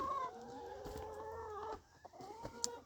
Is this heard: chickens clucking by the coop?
yes